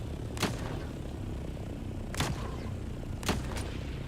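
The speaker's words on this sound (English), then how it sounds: "They're just shooting each other to shoot each other." Sharp gunshots from players shooting each other in the video game Dune Awakening, three separate loud reports spaced a second or two apart over a steady low background rumble, no talk.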